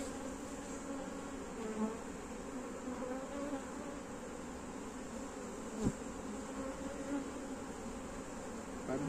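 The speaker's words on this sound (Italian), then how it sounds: "Guardate quante api ci sono" Honey bees buzz around an opened hive from a colony that has swarmed, a dense, continuous droning hum with occasional faint knocks, steady and moderately quiet throughout.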